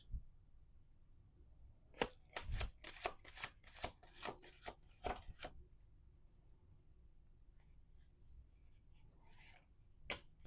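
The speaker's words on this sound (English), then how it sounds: "Let's do 2 more shuffles." Rapid crisp riffling and snapping of tarot cards being shuffled in a quick burst, followed by quieter handling sounds and one final sharp tap.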